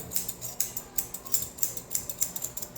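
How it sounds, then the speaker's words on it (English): Close, crisp scissor snips cut a Shih Tzu's coat below the ear in a brisk, even rhythm of about a dozen sharp metallic clicks over a quiet room. "So everything below my scissors, that's what I'm cutting."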